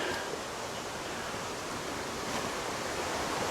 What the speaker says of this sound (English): you can walk right along the creek here